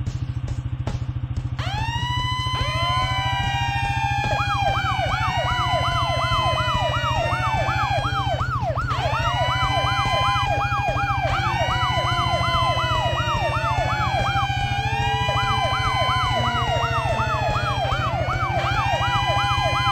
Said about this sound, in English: Turn our sirens on and off.